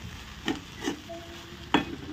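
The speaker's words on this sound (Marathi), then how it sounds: "आता हे चीज टाकले याच्यामध्ये मी ॲड केले आणि आता याला मिक्स करून घेऊन व्यवस्थित." Cheese being stirred into a vegetable sandwich filling in a bowl, with a few short scraping strokes of the spoon, close and fairly quiet, and no talking.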